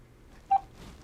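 A VTech CS6529 cordless handset gives a single short touch-tone DTMF beep, clear and close against a quiet background.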